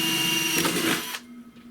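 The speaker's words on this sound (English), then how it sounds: "start with drilling through some metal here on this reflow oven" A Milwaukee M12 right angle drill bores through sheet metal on a reflow oven, giving a loud, steady motor whine with a rising grind for just over a second before cutting off abruptly.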